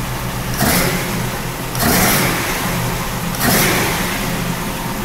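A 1932 Ford coupe engine idles steadily with three distinct rev blips about every one and a half seconds, each rising and falling back to a rough idle, close and loud with no talking.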